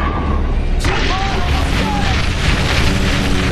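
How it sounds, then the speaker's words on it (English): Artillery fire support in The Bureau: XCOM Declassified lands as loud, sustained explosive booms and rumbling bursts that fill the scene, with a voice shouting over the barrage. "Get me artillery! Fire support incoming!"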